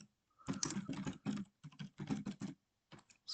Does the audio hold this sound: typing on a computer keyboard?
yes